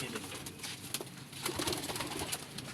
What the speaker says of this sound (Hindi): कबूतरों में तो कोई कमी नहीं।